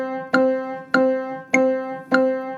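Piano sounding a steady pulse of four evenly spaced quarter notes, each a clear struck tone with ringing harmonics, played alone with no talking.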